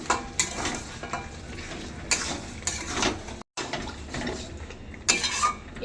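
Mutton curry simmers in a pot on low gas, giving a steady bubbling sizzle broken by louder bursts of stirring and the clink of a utensil against the pot.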